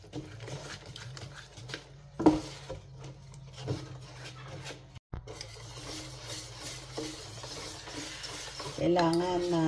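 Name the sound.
stirring ground glutinous rice with coconut milk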